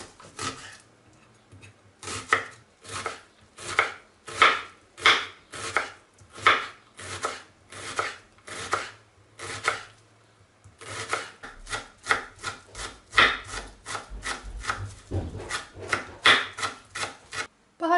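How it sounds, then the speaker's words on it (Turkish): Onion being finely minced by hand with a knife on a cutting board, a long run of quick, even close chops in steady bursts, a few louder knocks near the end, no talking. "Ben bugün elimle ince ince kıyacağım."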